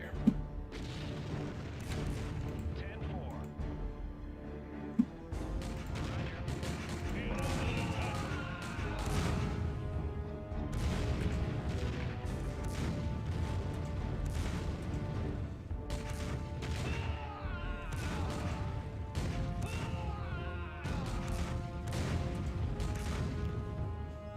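Artillery fire and explosions rumble through an Empire Earth battle, a dense, continuous barrage of booms and crashes with sharp impacts near the start and around five seconds.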